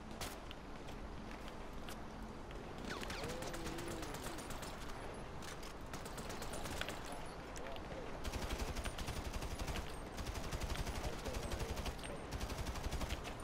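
Gunfire in the video game GTA V crackles in rapid bursts and sustained automatic volleys, layered over constant game noise and growing denser toward the end.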